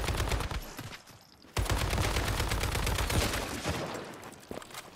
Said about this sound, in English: this one is shooting at us